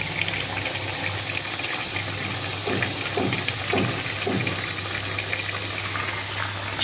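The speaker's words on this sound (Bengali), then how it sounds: "এই গরম জলটা দিয়ে দেবো।" Hot water gushes steadily into a pot of fish curry made with bhetki fish and cauliflower, a continuous close pouring and splashing wash that stays even in loudness, heard without speech.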